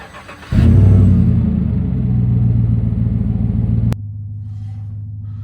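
A Chevrolet Silverado pickup's 5.3-liter LS V8 engine cranks and roars to life, rumbles loudly for a few seconds, then settles into a lower, steady idle.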